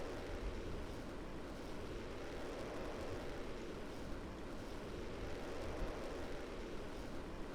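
A steady, dense roar of a rocket engine fills the scene in a space-program video game, broad and unbroken at constant loudness throughout, with no voices.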